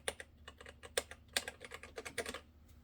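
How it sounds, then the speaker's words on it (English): Quick, fairly quiet bursts of typing on an Adesso EasyTouch 1500 ergonomic keyboard with Cherry MX switches, an uneven run of crisp key clicks heard close up with no voices. "It has Cherry MX switches"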